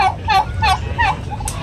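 A turkey hen gobbles close by in a quick series of warbling calls, four or five bursts in under two seconds, loud and alone with no talk.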